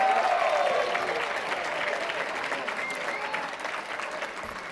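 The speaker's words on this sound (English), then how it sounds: "Can we have another round of applause for them?" Sustained applause for graduates at a university graduation celebration, a dense crowd clapping loudly at first and tapering slightly while holding steady through the end, with a brief cheer near the start.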